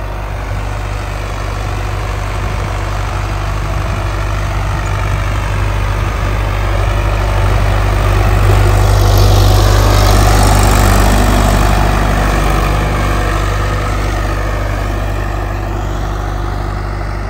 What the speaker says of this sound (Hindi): 1700 आरपीएम पे चला रखा, हाई के फर्स्ट गियर में